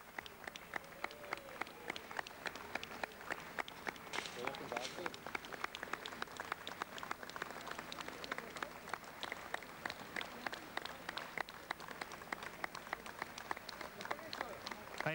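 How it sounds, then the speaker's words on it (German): Large outdoor crowd outside a theater at the funeral of Willy Millowitsch, clapping steadily throughout with dense, sustained applause; voices and calls mingle faintly in the background. "Ein letzter brandender Applaus für Willy Millowitsch."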